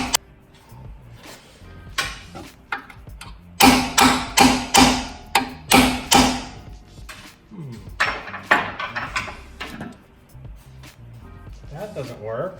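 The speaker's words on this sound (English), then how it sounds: "Punch the bolt out, and the shock is going to expand" Metal punch hammered to drive a bolt out of a Koni shock absorber mount on a Montero: a run of sharp, ringing metallic strikes in quick succession, then scattered clanks and knocks.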